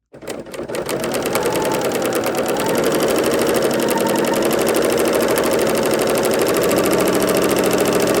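A serger sews a wide 2-thread wrap stitch off the fabric edge, starting abruptly and settling into a loud, fast, steady mechanical whir with a rapid needle rhythm close by.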